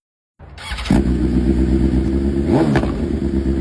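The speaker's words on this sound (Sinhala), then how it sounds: "දැන් අහලා බලන්නකෝ මේ BMW bike එකේ සද්ද කොහොමද කියලා." A BMW 1000RR superbike fitted with an Arrow titanium exhaust fires up after a brief silence and holds a loud, close, raspy idle with a sharp throttle blip partway through.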